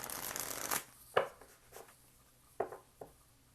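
Tarot and oracle cards shuffled in a quiet room: a few sharp riffling bursts and soft slaps, spaced irregularly across a few seconds, close and moderately loud with no talking.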